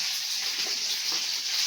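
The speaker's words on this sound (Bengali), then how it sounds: "খালি একটু ভেজে নেবো।" Fish frying in a pan, a steady, even hiss and sizzle of hot oil that carries on without a break, with no voices over it.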